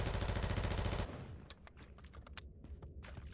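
Rapid automatic gunfire from a shooter game set in a bunker boss fight, loud and continuous for about a second, then a scatter of sharper single shots and impacts over quieter background.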